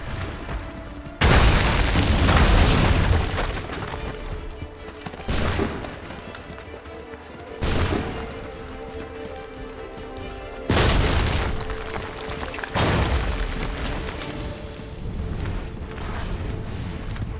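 Barrels blowing up in a video game, several heavy booming explosions spaced a few seconds apart over a continuous loud rumble of game noise.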